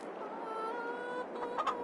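Chickens clucking in the video game Farming Simulator 22, soft steady fowl chatter at moderate distance, fairly quiet and continuous, with a few slightly louder clucks near the end.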